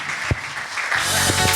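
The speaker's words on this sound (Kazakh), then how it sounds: "Шапалақ, қошеметтер." A stand-up comedy audience breaks into applause, a short burst of clapping that swells and carries on steadily through the brief moment.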